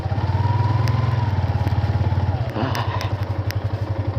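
A motorcycle engine labors up a steep climb on a road near Danao, Bulan, Sorsogon, a loud steady drone close by that shifts pitch partway through, with occasional clatter and thumps.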